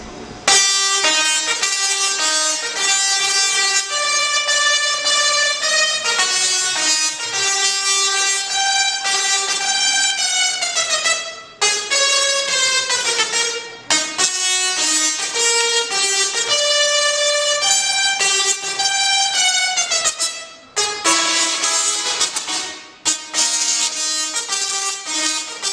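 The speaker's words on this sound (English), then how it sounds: "these Tesla coils sound a little bit more like this" Musical Tesla coils at a live lightning show play a loud, continuous run of buzzy, harmonic electric tones, with the notes changing pitch in a melody and broken by a few brief pauses.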